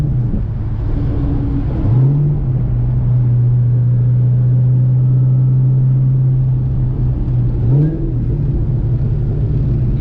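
A modified Terminator Cobra's engine holds a steady idle, then blips up sharply near two seconds and again near eight, each rev-match burst brief and close, with a sustained mid-pitch drone between.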